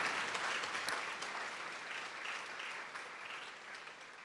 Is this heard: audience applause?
yes